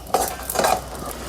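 Poppy seeds, sesame seeds and coconut powder are dry-roasted in a pan, with a soft scrape and stir of a spoon over a faint sizzle. A few light strokes sound close by, with no talking.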